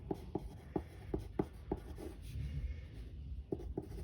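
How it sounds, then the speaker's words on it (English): A pen or pencil writing a math problem by hand, a close series of soft, regular scratching taps with a brief rubbing stretch in the middle and nobody talking. "I'm going to write that h represents, or h equals, Oreo the Husky's"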